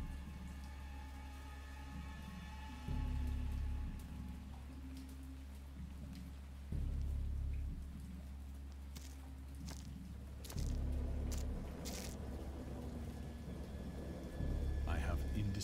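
Steady rain patters on surfaces while low rumbles of thunder roll in repeatedly, swelling and fading every few seconds at a moderate distance.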